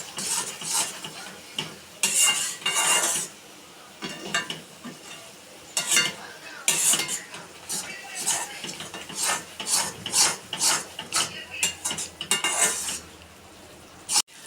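A jaggery and coconut mix with ghee gets stirred in a pan: rhythmic scraping and clinking strokes of a spoon against metal, close and fairly loud, over a light sizzle.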